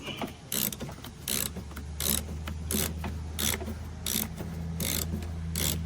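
A ratchet wrench loosens the single bolt on the front passenger exterior door handle of a 2013 Chevrolet Silverado 1500, giving close, repeated bursts of quick ratcheting clicks over a low steady hum, with no talking.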